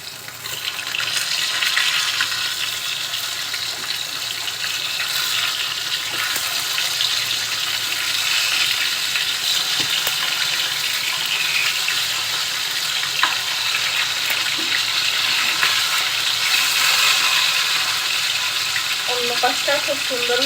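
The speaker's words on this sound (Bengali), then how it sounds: "অন্য পাশটা খুব সুন্দরভাবে ভেজে নিব।" Turned catla fish pieces sizzle on their second side in hot cooking oil, a dense, continuous close-up crackle holding an even loudness throughout.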